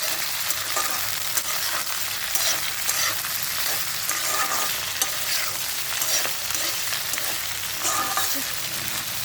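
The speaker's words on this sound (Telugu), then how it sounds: "ఈ విధంగా అయితే కలుపుకొని బాగా వేయించుకోవాలి." Okra sizzles loudly in hot oil in a pan, with repeated scraping and clinking as it is stirred while frying, continuous throughout.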